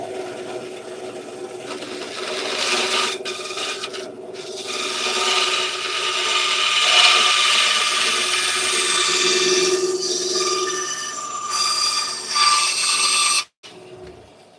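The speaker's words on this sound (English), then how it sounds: "Go figure my blank's a little bit too big. Okay. I got to trim it down." A bandsaw cuts steadily through a wooden pen blank, a continuous close rasping whine with a slightly faulty blade, lasting about thirteen seconds before stopping abruptly, with no speech.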